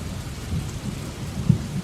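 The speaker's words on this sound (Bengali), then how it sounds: "বাইরের অশ্রান্ত বৃষ্টিপাত ছাড়া অনেকক্ষণ ঘরের ভেতর আর কোনো শব্দ নেই।" Steady rain falls outside a house with a low rumble of thunder underneath, a continuous soft wash with a brief stronger thump near the end, no voices.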